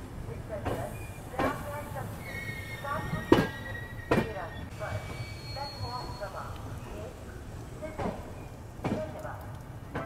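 A train at Varanasi Junction railway station, with a steady rumble of rail noise, repeated clanks and a few faint squeals, and a voice talking throughout.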